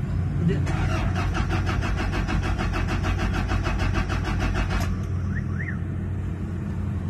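A Toyota Fortuner with a no-start fault cranks over on its starter in a steady, rapid rhythm for about four seconds without catching, then stops, followed by a brief faint voice and background hum.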